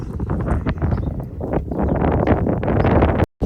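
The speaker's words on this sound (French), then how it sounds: "il y a grave du vent" Strong wind in the Agafay desert near Marrakech buffets the microphone with a loud, rough, continuous rumble, rising and falling in gusts before a brief cut at the end.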